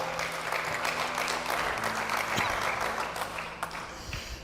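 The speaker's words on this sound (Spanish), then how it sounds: "Denle un aplauso a Jesús." A church congregation applauding, dense sustained clapping from many hands filling the room, with faint voices underneath.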